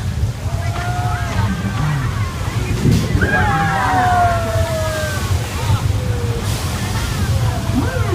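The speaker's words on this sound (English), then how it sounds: "Thousands of gallons of recycled water dropping from tanks just around the corner, goes down the hill under the bridge" Thousands of gallons of recycled water pour from tanks into a staged flash flood on a Universal Studios tour, rushing downhill under a bridge in a steady loud roar, with faint distant voices over the torrent.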